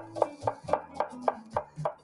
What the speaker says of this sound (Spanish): le metemos la cebolla bien picada